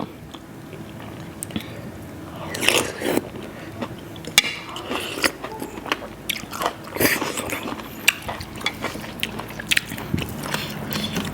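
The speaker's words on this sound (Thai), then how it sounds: "หอยกรุบกรุบได้พี่น้องค่ะ" Crunchy field snails eaten with khilek (cassia leaf) curry, chewed close to the microphone with sharp, irregular crunches and bites between quieter moist chewing.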